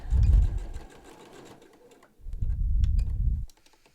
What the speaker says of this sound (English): Back stitching over the straps